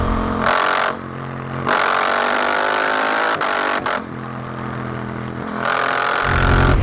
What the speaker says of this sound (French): c'est la moto qui va gérer un petit peu le ralenti